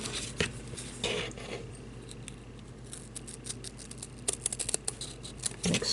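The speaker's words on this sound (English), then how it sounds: "I'm going to take my long blade scissors" Long-blade scissors make straight cuts through stiff felt, giving a series of faint, close snips and soft crunches that come in short irregular bursts, with more cuts packed together near the end.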